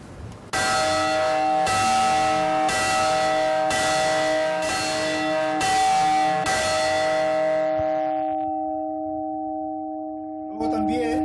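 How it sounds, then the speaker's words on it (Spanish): A church bell rings out a run of seven evenly spaced, loud strikes, each leaving a long shimmering hum that carries on and slowly fades after the last blow; faint voices come in right at the end. "Luego también tenemos el repique de campana, que lo hacemos en las procesiones y en todo tipo de eventos."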